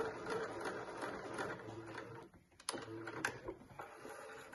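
A sewing machine runs a row of gather stitches on an indigo dress, a quiet, close mechanical whirr that briefly pauses midway and then resumes with small clicks.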